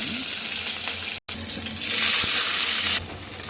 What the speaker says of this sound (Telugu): కొంచెం మెంతులు, కొంచెం ఆవాలు, కొంచెం జీలకర్ర, ఆనియన్ కూడా వేస్తున్నాను.